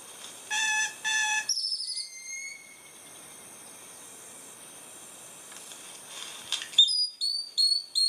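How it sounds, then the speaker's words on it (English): A small bird in Belize calls in the morning, giving repeated bright, high chirps and whistled notes in short bursts, fairly close and clear over a quiet background. "This little bird here has been waking us up every morning."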